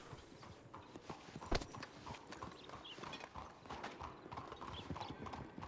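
Horse hooves clip-clop steadily in a video game, a continuous rhythmic patter under faint background talk, with one sharper hoof strike standing out near the start.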